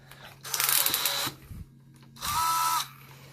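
A DeWalt cordless drill runs in two short bursts of about a second each, a close, high whirring buzz, while a quarter-inch hex right-angle flex extension is chucked into it, with light clicks between the bursts.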